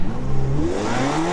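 Simulated dragster engine in a racing video game revs hard at launch, its rising drone wavering and sagging as it bogs down, loud and continuous through the short stretch with no talking.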